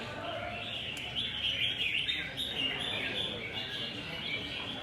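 Competition songbirds at a bird contest keep up busy, overlapping high chirps and tweets throughout, fairly faint and steady, while someone talks over them.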